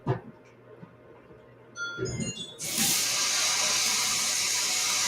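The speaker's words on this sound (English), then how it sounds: "let me wash my hands first" A tap turns on and runs steadily as hands are washed, a broad rushing hiss of water splashing into a sink, preceded by a few faint clinks.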